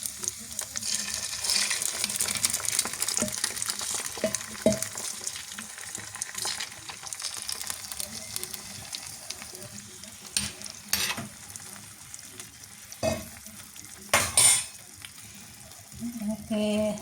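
Egg white poured into a hot pan sizzles loudly and steadily, with occasional stirring scrapes and clinks rising above the frying hiss throughout.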